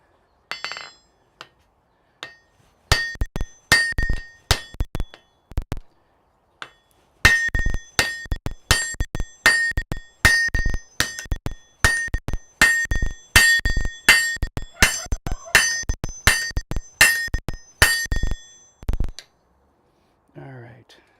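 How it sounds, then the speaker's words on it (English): A blacksmith hammers hot metal on an anvil in a smithy, forging the neck of a tool at the collar: loud, ringing metallic blows land in quick rhythmic runs with brief pauses between groups, close and clear. "I think that's almost all the forging I need to do in that direction."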